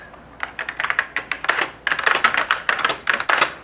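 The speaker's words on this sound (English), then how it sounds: "this is an AT keyboard, I suppose" Rapid typing on the AT keyboard of a MicroFlex 486 computer, model RT6251T, a close, crisp run of key clicks in uneven bursts with short pauses and no voices.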